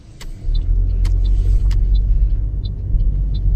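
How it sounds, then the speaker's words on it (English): A car slowing down and making a U-turn on a suburban street, with a low steady engine and road rumble inside the cabin and faint ticking clicks over it, no talking. "slow the car down, position the vehicle properly, and then I do the U-turn"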